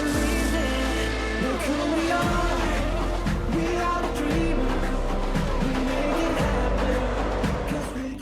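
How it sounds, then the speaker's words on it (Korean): Race cars lap the Yeongam F1 circuit with loud engines that rise and fall through gear changes and keep droning steadily throughout. "레이싱카의 짜릿한 속도 경쟁이 펼쳐지는 곳인데요"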